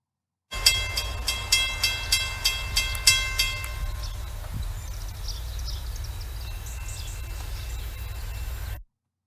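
A CSX freight train rolls through Winchester, Kentucky, on the CC subdivision, its wheels clacking rhythmically over rail joints, followed by a steady, loud rumble of passing cars with no talking.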